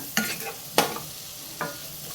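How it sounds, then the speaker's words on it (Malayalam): Butter garlic paneer fried rice stir-frying in a pan, three sharp spatula scrapes over a soft sizzle, close up with no voices. "ഇത് നമുക്ക് ചെറുതായിട്ടൊന്ന് വഴറ്റിയെടുക്കാം"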